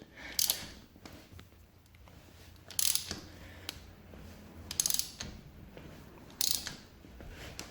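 Wrench ratcheting on the oil drain plug of a Honda Hawk 250 motorcycle, four sharp clicking bursts spaced about two seconds apart, close and fairly quiet, with low background hum between them.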